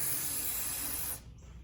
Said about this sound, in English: I'm just going to spray that liberally on any of the moving parts.